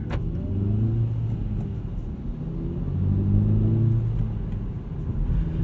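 A 2018 Hyundai Elantra GT Sport engine hums low and steady from inside the cabin at night, its pitch rising and settling as the manual-transmission car drives along, with road rumble underneath.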